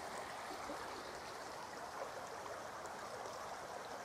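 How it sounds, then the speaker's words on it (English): A small, fast-flowing river running from the hills through a local park gives a continuous broad rushing and babbling wash of water, steady and fairly close, with no voices. "a nice little river. It's quite fast flowing."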